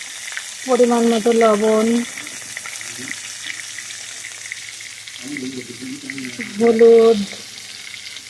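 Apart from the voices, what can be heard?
spices and vegetables sautéing in a pan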